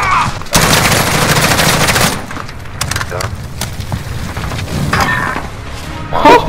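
Loud, dense bursts of gunfire in a search and destroy match of a first-person shooter game, with sustained volleys and shot impacts overlapping as a player talks excitedly throughout.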